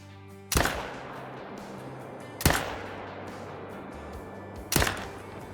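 Three loud, sharp rifle reports while hunting red deer in Australia in the hunting game Call of the Wild, each shot followed by a long decaying echo and spaced roughly two seconds apart over quiet outdoor ambience.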